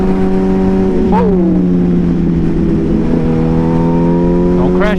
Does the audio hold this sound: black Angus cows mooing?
no